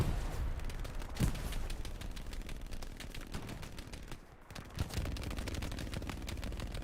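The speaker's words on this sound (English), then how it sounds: "first nade here from Navy" Dense gunfire crackles throughout a Hell Let Loose battle, with a heavy grenade blast near the middle, a short lull, then the shooting resumes at a steady, loud pace.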